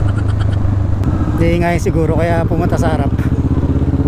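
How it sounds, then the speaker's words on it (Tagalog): A motorcycle engine runs close by on a congested market street, a steady loud low drone under a person speaking, with a brief revving rise in the middle. "Ang sakit sa tenga ng motor ni sir."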